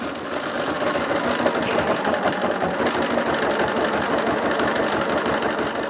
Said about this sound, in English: I'm just showing you the machine embroidery part